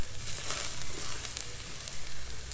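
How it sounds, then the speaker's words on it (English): Steaks sizzle steadily on a cheap portable camping firepit, a continuous close, crackly frying hiss with occasional brighter pops throughout. "have a look at these steaks sizzling away here"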